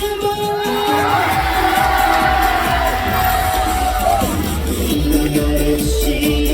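A large outdoor festival crowd at a sweetfish festival cheers and shouts continuously with whoops, loud, close and sustained throughout, with a dense roar of many voices and no single clear speaker.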